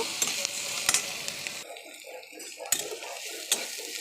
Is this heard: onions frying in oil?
yes